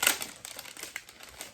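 Close, crisp crinkling of a plastic bag holding makeup brushes, a loud rustle at the start followed by softer irregular crackles as it is handled, no talking.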